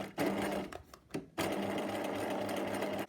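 A sewing machine stitches elastic onto fabric at a short stitch length, whirring loudly and close in two runs broken by a brief pause, with no talk.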